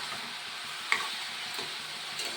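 Food stirred and mixed in a sizzling frying pan, with a steady close fry hiss and soft scraping strokes, one sharp tick near the middle, no voices.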